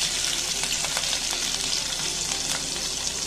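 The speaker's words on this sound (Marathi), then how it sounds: "जिरं छान तडतडलं की आपण त्याच्यामध्ये मिरचीचे तुकडे घालणार आहे." Cumin seeds and green chilli pieces sizzle in hot ghee for sabudana khichdi, a dense, constant crackling hiss with small pops, close and steady throughout.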